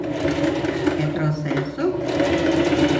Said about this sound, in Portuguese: vou colocar o feltro por baixo e as duas partezinhas por cima, baixar o pezinho e vamos lá costurar.